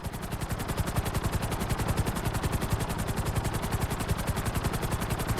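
Helicopter in the video game GTA V flying at full speed with its nose tipped forward: a loud, steady rapid rotor chop, evenly pulsing throughout with no talk over it.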